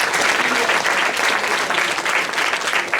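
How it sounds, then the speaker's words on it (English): Audience applause at the Lead On 2019 event for the host Mehak, a dense, sustained clapping from a crowd, even and loud for the whole stretch. "can we have a round of applause for Mehak who introduced me on the stage?"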